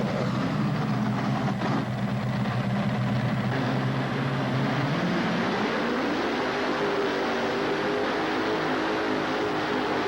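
A twin Chevrolet-engined pulling vehicle at a tractor pull roars with a loud, continuous heavy drone that drops in pitch midway and settles into a lower, sustained rumble.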